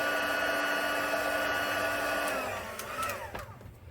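A handheld heat tool blows steadily over craft material on a silicone mat, a loud even whooshing drone that falters near the end with a few clicks, close and alone.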